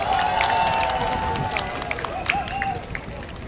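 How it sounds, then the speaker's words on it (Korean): A rally crowd claps and cheers at a candlelight vigil anniversary gathering, a continuous busy roar of applause with scattered shouts and a whistle-like tone early on, fairly loud and close throughout. "큰 박수 부탁드립니다."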